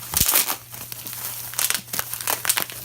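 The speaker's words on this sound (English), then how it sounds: "let me get it out of its packaging" Plastic packaging crinkles and rustles up close as a fire alarm pull station is unwrapped, in irregular bursts of crumpling with no talking.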